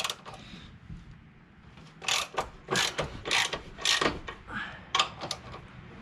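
A ratchet wrench undoes a 14mm bolt on a torque mount while parts are being removed from a Honda Integra. It gives a series of sharp, close clicking strokes in a steady back-and-forth rhythm.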